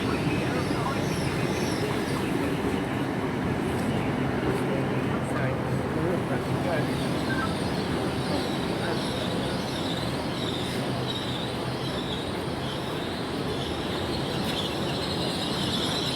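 Class 800 trains 800 026 and 800 019 departing Swindon station, a steady continuous rumble of rolling stock with faint squeal, while someone speaks over it.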